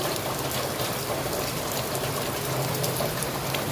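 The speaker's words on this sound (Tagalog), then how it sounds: "Habang kumakain, bumuhos na pala ang malakas na ulan sa labas." Heavy rain pours outside a rural home, a steady, dense hiss of drops hitting surfaces that holds loud and unbroken throughout with no voices.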